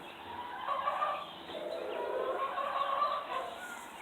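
A rooster crows nearby in a farmyard, drawn-out harmonic calls rising and falling over a few seconds against a quiet background with no talking.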